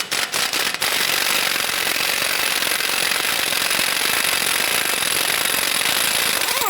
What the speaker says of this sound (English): Using our 32mm socket, loosen and remove the axle nut.